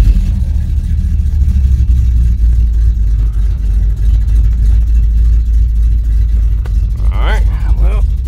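1986 Chevrolet Suburban dually with the distributor fully advanced, its engine running loud and close with a steady rumbling drone as it is given gas, with a brief squeak near the end.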